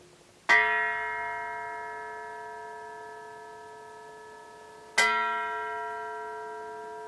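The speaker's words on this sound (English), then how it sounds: "If you tap the shell, have a listen." A die-cast steel 8-inch snare drum shell is tapped twice, each strike ringing out with a long, bell-like sustain that slowly fades.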